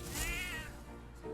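A single short meow from a cat in the video game Metaphor: ReFantazio, rising then falling, clear and close over steady game background sound.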